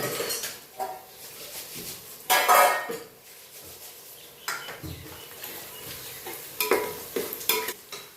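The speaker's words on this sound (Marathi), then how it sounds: "त्यात आता आपण हा आलू लसूण पेस्ट टाकून घेऊ" Ginger-garlic paste is fried and stirred in a pan, giving a steady sizzle broken by repeated scraping and clinking of a spoon against the metal pan.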